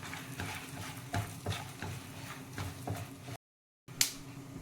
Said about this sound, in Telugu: ఇప్పుడు మనం హోల్ గరం మసాలా ఐటమ్స్ ఉన్నాయి కదా, ఇవన్నీ వేసుకొని కొంచెం వేగనివ్వాలి.